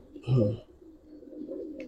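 A single soft, throaty coo from a Giribaz pigeon close by, followed by a fainter low murmur, with no clear speech.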